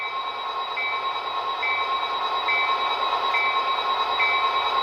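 Bell of an Athearn RTR SD40 model diesel locomotive with Economi sound and DCC, ringing as evenly spaced tones over a steady engine idle, close and continuous.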